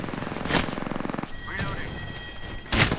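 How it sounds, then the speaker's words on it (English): Bursts of enemy gunfire in Apex Legends, a video game, come in short rattling volleys with a few separate louder cracks, mixed with game sounds and talk. "Some team is shooting me from across the map"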